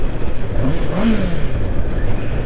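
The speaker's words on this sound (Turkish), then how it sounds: "Ama abi şu 4 silindirin sesi çok güzel ya" A four-cylinder Honda motorcycle engine revs up and back down in a smooth rising and falling sweep, steady and fairly close over continuous riding noise.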